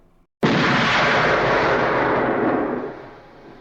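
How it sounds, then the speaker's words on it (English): A single loud, sharp gunshot from the Series 1000 library used for the first James Bond gun barrel sequence, with an abrupt attack and a long, broad reverberant tail that fades over about three seconds. "For the very first gun barrel sequence, the sound effect came from Series 1000 sound effects library."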